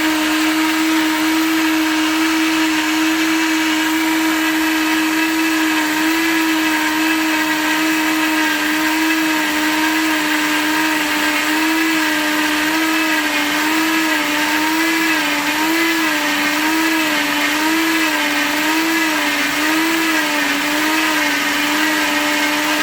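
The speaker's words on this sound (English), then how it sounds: "I am just going to switch my blender on and let's get blended." Kitchen blender whirring through strawberries and watermelon for a summer drink, a loud steady motor drone with a wavering pitch as the contents churn, running without a break and with no voices.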